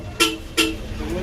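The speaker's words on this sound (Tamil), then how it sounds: "வால்வோட அபிஷியல் ஹார்ன்" Official horn of an SETC Volvo bus in Tamil Nadu gives two short, loud toots about a third of a second apart, heard close over a faint background murmur.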